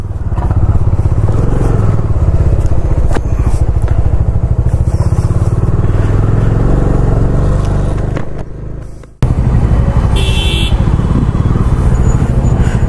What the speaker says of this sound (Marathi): हा आपला रस्ता आणि ही आपली बाईक